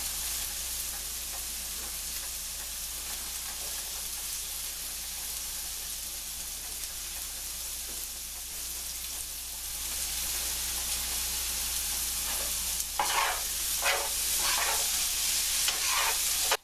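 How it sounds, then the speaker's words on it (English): Carne asada and potatoes frying in a pan for breakfast taquitos: a constant close sizzle that grows louder midway, then several quick scraping stirs toward the end, with no talking. "now I'm going to add my carne asada to the potatoes."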